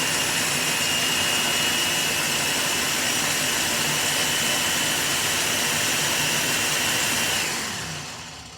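A blender whirs through a carrot ginger dressing with oil poured in, a loud steady roaring buzz held for about seven seconds before winding down and fading at the end.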